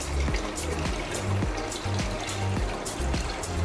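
Water pours and trickles steadily from the last chamber of an ATMAN 203 aquarium filter as it drains, a continuous close splashing flow with a faint low rhythmic pulse underneath and no talking.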